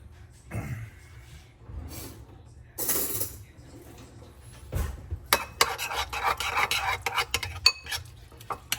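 Ground turkey meatball mixture with salt and pepper being mixed by hand in a bowl, giving close, soft squelching and rubbing sounds with scattered sharper clicks and scrapes, loudest and busiest toward the end.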